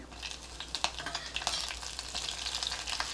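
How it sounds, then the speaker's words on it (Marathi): Cloves, cinnamon pieces and a green chili crackle in hot oil for a Gujarati kadhi tempering, giving a close, busy sizzle with quick pops and spits throughout and no talk. "इथे मी चार पाच लवंगा घेतलेत आणि एक दोन दालचिनीचे तुकडे घेतलेत ते घालते एक हिरवी मिरची"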